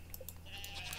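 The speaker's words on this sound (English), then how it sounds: "Oh wait, where's the baby sheep?" A baby sheep in the video game Stardew Valley gives a short, high, wavering bleat, quiet and heard alone.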